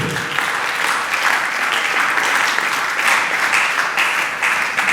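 A church congregation claps steadily in unison, acclaiming the Lord, a loud, sustained wash of applause that fills the whole stretch without pause.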